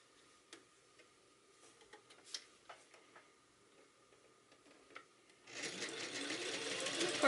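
A sewing machine runs steadily as it stitches the hem of a suit coat sleeve, a rising mechanical whir that starts after a few faint ticks and handling clicks and continues loud to the end.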